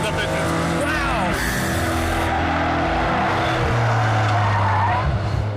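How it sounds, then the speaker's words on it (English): A McLaren F1's 627-horsepower BMW V12 revs hard with squealing tyres and shifting engine pitch, loud and close, while someone talks over it. "V12 627 horsepower BMW engine is doing the business behind me, and my goodness, it really does do the business."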